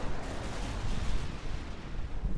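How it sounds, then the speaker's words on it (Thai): Online Call of Duty 4: Modern Warfare combat with a game explosion: loud, continuous broadband rumble and crackle with a deep low-end thud, like blast and gunfire effects layered together. "อุ้ยโดนระเบิด"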